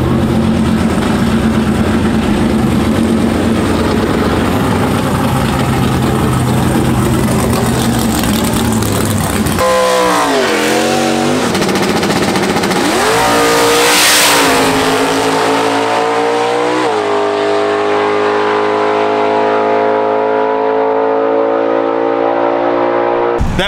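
A 2022 COPO 572 Camaro drag car making a run at an NHRA certification session: a loud, sustained engine roar that climbs through revs, shifts, then drops to a rumbling idle, with no talk over it.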